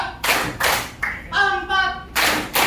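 A class of children claps in unison in short bursts, with several quick rhythmic claps in each burst. A brief spoken phrase falls in the middle, between the clapping.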